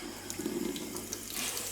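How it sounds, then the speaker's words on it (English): Cold water poured from low down in a steady, continuous stream, splashing close by with a bright, even rush and no voices over it. "I'm going to pour cold water in between with it fairly low down"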